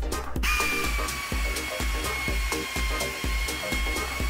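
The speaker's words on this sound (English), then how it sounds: "Use an air or electric power drill" A power drill whirs steadily at close range with a rhythmic pulsing chatter as it drives a cleaning tool in a diesel injector seat, loud and continuous without any speech.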